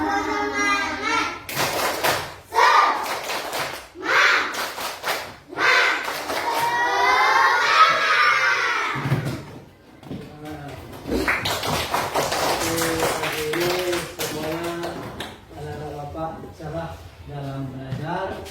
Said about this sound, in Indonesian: ice breakingnya yaitu tepuk semangat